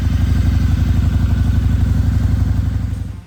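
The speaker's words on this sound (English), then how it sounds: "Revving into view at number 7 is the V-Rod 2002." A 2002 Harley-Davidson V-Rod, its engine co-designed by Porsche, runs with a close, loud, steady pulsing throb that holds evenly for about three seconds before easing off slightly.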